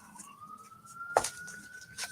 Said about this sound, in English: We got sirens. Wouldn't be a Friday night here without sirens.